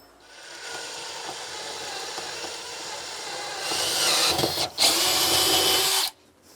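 A 5/8 inch bit bores a hole from top to bottom through a surface during an RV water purifier install, a steady whining drill with rising grinding near the end, then stopping abruptly.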